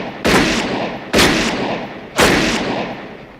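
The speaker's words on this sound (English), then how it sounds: "She shot 6 shots, but there were only 5 holes." Three loud, evenly spaced gunshots from the 1973 film Magnum Force, each a sharp blast trailing into a long reverberant decay.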